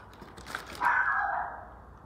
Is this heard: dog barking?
yes